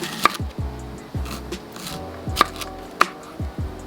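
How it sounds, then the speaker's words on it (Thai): A knife chops through daikon radish on a cutting board in steady repeated strokes, each a short thud with a sharp click, close and moderately loud. "เราก็หั่นหัวไชเท้านะคะ แบบนี้"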